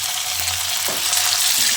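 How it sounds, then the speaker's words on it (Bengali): Garlic, green chillies, peanuts and chopped tomatoes frying in a pan, a loud continuous close sizzle with a couple of soft stirring scrapes. "রসুন, কাঁচা লঙ্কা, চিনেবাদামটাকে ভালো করে ভেজে নিয়ে এর মধ্যে কেটে রাখা টমেটোগুলো দিয়ে দিচ্ছি"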